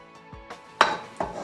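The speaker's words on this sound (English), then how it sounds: "Now I'll add salt as well, and just give it a quick stir." A spoon knocks and scrapes against a bowl while flour and salt are stirred, several short clinks and taps in quick succession, close and unaccompanied.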